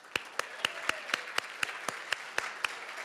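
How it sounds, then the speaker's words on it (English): Evenly spaced, sharp hand claps, about a dozen at a steady quick beat, sound faint and sparse at a tenth-anniversary address for a children's charity, with no voices over them. "Let's all give a big round of applause tonight to our MCs, Lou Schneider and Monica Rosenthal."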